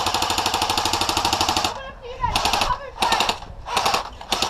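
An airsoft gun fires on full auto at an outdoor airsoft field, rattling in rapid continuous bursts close by, a long stream followed by several shorter bursts separated by brief pauses.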